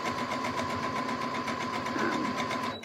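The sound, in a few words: sewing machine stitching fabric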